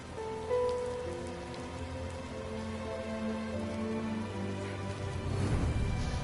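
Steady rain in the video game Rime, a dense, even patter of drops falling continuously with a swell of heavier rainfall near the end and no voices over it.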